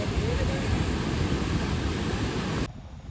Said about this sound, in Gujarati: જો મોજા જુઓ હવે